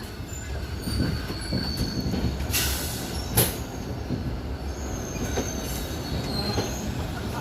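The Telangana Express 02724 running on rails, a continuous rumble of wheels on track with faint rhythmic clatter and thin high squeals, heard from on board with no talking.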